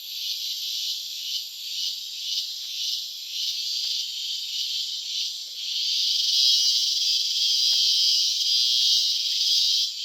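A male cicada sings a loud, continuous high-pitched buzzing drone that pulses slightly at first, then swells and holds steady, close by with no voices.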